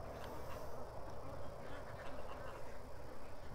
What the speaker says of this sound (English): at least there's ducks